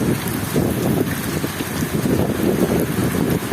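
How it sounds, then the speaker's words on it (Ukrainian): Steady rushing wind with rain pattering throughout during a hurricane-force storm in the Lviv region, a continuous buffeting roar close to the microphone. "І зараз отакий дощ. Тому що вітер сильний, ураган."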